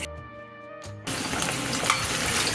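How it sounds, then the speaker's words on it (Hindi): Jackfruit pieces frying in oil in a kadai: a quieter start gives way around one second to a loud, steady, broadband sizzle that continues to the end, close up, with no talking. "अब हम कढ़ाई में और कटहल डाल देते हैं"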